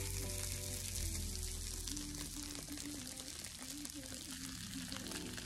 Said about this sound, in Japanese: お肉焼いてるっていう音が。